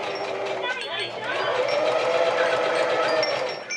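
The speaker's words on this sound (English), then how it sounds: "put your foot down, and sew. Nice and slow" A sewing machine stitches a sock slowly in a steady close mechanical whir, with a person talking over it throughout.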